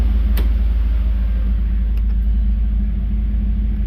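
A warmed-up 1991 Camaro RS engine idles with a steady, deep, close rumble, smooth and unbroken, with a couple of faint light clicks over it.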